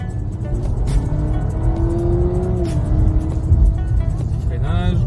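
Honda Civic hybrid accelerating up a gentle hill on a scenic road, steady engine and road hum with a faint whine rising, while someone talks over it.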